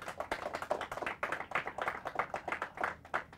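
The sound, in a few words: audience applause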